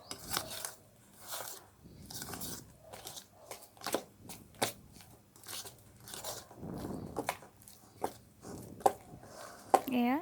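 Grated jackfruit juice, flour and salt being mixed by hand for jackfruit pitha, heard as intermittent wet, squelchy squishes and pats that come close-up in irregular bursts with pauses between them.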